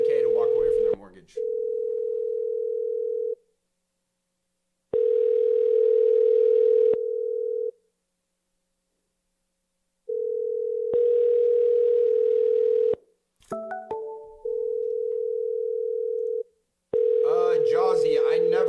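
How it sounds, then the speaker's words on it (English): Outgoing call on a phone line during real-estate cold calling: steady ringback tones sound in repeated bursts with silent gaps, fairly loud, with a brief clatter and a voice breaking in near the end. "I'm gonna go ahead and call them again."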